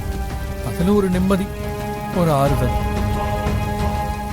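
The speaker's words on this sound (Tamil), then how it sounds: "நானும் மழையில நனைகிறேன்." Steady rain falls throughout as a constant hiss, with a voice talking over it in a television drama scene.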